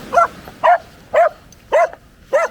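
A dog on a sandy beach barks five times in an even rhythm, each bark short, loud and close, with quiet gaps between.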